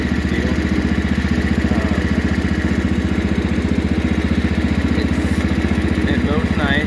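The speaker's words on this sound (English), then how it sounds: "It's a pretty quiet tractor, to be honest with you." A Wheel Horse 312-8 garden tractor engine runs steadily while mowing, a close, even chugging drone that holds throughout with no break.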